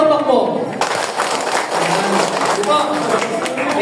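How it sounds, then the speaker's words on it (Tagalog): An audience at a community talk applauds in quick succession, a sustained dense patter of many hands that runs on after a brief spoken cue at the start. "Sunod-sunod na palakpak po."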